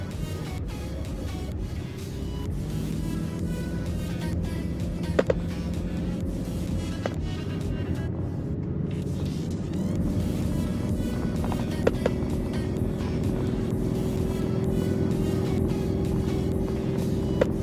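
A car engine drones steadily and close while climbing a hill towing a two-tonne car trailer, its pitch holding then shifting as it labours under load, with road noise throughout.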